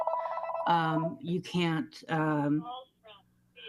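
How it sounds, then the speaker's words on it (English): A mobile phone rings during a city council meeting, its tonal ring repeating in bursts beneath and between a man's speech. "my phone's ringing"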